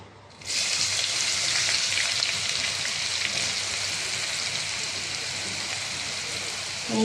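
Chopped onion sizzles loudly in hot oil in a pan, a steady hiss and crackle that starts abruptly and continues without a break, close and alone.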